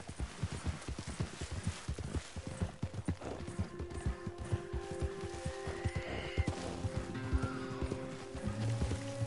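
Horse galloping in Red Dead Online, rapid rhythmic hoofbeats close up with a snort or whinny partway through, continuous and fairly loud with faint ambient game sounds behind.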